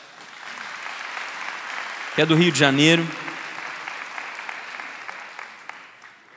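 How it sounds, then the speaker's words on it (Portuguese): Crowd applause at a Brazilian talk, broad steady clapping filling the whole stretch while someone speaks briefly over it in the middle. "Vamos aplaudir a Kátia"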